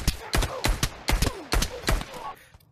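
Beretta pistol shots in the VR shooter Pavlov ring out close and loud, about seven sharp reports in an uneven rapid series, each a punchy crack with a short decay, and no talk over them.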